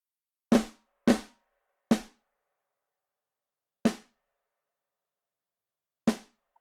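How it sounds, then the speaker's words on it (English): Five dry, unprocessed MIDI snare drum hits in an Addictive Drums style, each sharp and full with a natural ringing tail, played alone at uneven spacing with clear silence between strikes. "So for the snare, without the effect, it sounds like this."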